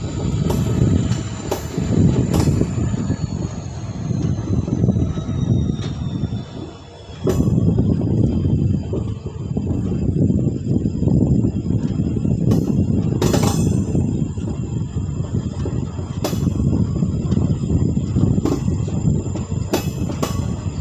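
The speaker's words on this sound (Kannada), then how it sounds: "ಆದಮೇಲೆ ನಮ್ಮ ಟ್ರೈನ್ ಬಂದೈತೆ" A train pulls into a station on the Hubballi to Hyderabad route, with a loud continuous rumble of rolling wagons, a long high squeal from the wheels and brakes, and sharp metallic clanks scattered throughout.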